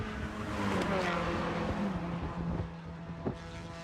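Spec Miata race cars in an SCCA Hoosier Super Tour race at Mid-Ohio, with engines droning and revving at mid distance as a pack passes, the engine note rising and then fading slightly toward the end.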